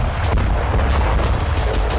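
Missile explosions in war footage, deep rumbling booms and blasts rolling continuously with heavy low-end thunder, loud and sustained with no speech.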